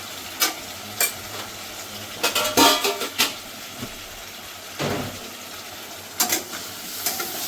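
Masala with cumin and coriander powder, mixed with tomato paste, is stirred in a pan with intermittent scraping strokes over a soft, steady sizzle. No voices are heard.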